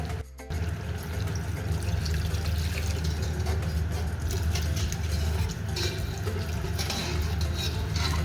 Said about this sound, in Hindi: फिर हम पानी डालते हैं।